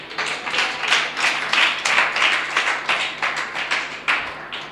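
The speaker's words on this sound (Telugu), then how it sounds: "చప్పట్లు కొట్టు ఒకసారి." An audience at a church service claps steadily for several seconds, dense overlapping hand claps with a few swells, no voices over it.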